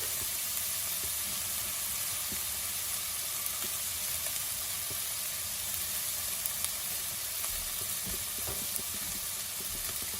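Fresh frozen garlic sizzling in hot oil while cooking a dried shrimp curry, a steady close hiss and crackle with occasional faint stirring clicks.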